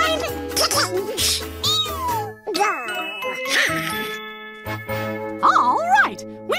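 Cartoon kittens mew in a string of high, rising and falling calls over bright, tinkling music, with a pause between bursts and a final loud pair of meows near the end.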